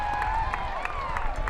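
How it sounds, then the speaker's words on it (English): A college baseball crowd at Brooks Field during a UNCW vs College of Charleston CAA championship game, a steady roar of cheering with rhythmic claps and whistle-like shouts, sustained and fairly distant. "you hear the crowd making noise for Trace Baker"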